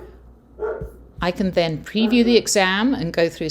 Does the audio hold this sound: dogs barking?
yes